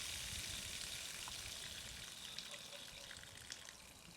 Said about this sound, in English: turn the jet or open the valve if that is what you use until you see a large spray and